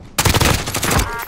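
A loud burst of rapid automatic gunfire in the Call of Duty Warzone video game, a dense string of close shots lasting about a second with no voices.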